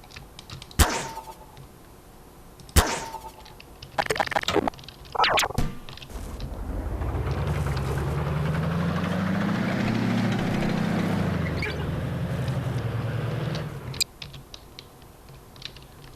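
Tank hull engine in Garry's Mod with ACF, revving up into a loud sustained rumble for about eight seconds after a few clicks and clunks, then cutting off.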